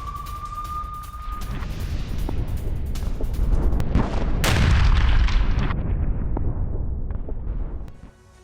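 A drone strike explodes on a Russian bunker, a loud broad boom building into a long rumbling roar with crackling debris that fades away over several seconds.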